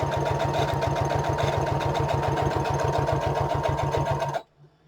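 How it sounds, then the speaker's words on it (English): A sewing machine stitches a paper piece onto a sheet of origami paper while assembling a junk journal, running as a steady, fast, loud rhythmic whir for about four and a half seconds before stopping abruptly. "I'm just going to stitch it onto this piece of origami paper."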